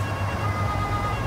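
In the Autobahnpolizei Simulator video game, a police car siren sounds as a brief steady tonal wail over a rumbling vehicle engine, loud and close, with no voices.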